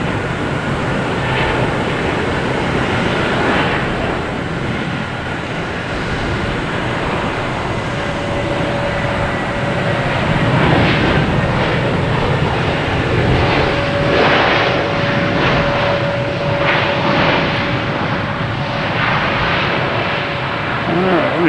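American Airlines Airbus A321 airliner arriving at Boston Logan, a continuous jet rumble and whine building mid-way, with a voice talking intermittently over it.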